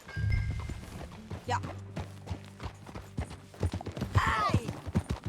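Horse hooves clip-clop on the ground in Red Dead Redemption 2, a steady trotting rhythm heard alongside game dialogue and background music, with a brief whinny-like sound near the end.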